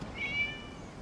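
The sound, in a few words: cat meowing in video game Genshin Impact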